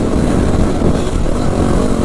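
A Yamaha WR250R dirt bike rides a trail at Carnegie SVRA, its engine a loud, constant droning rumble close up, with wind buffeting and no speech.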